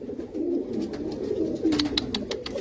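Pigeons coo softly in a home pigeon loft, several rolling coos overlapping close by, with light scratchy clicks and rustles toward the end.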